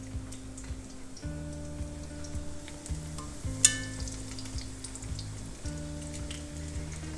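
Chicken pieces fry steadily in vegetable oil with a continuous close sizzle and crackle, plus a brief louder clatter near the middle; a low steady hum runs underneath and no one speaks.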